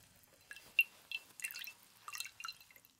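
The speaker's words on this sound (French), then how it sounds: "Donc je vais le tremper dans un petit peu d'eau, d'accord?" Water drips softly from a towel dipped in a little water during a home facial skin-care routine, several separate close drops and trickles spread over about three seconds with no talking.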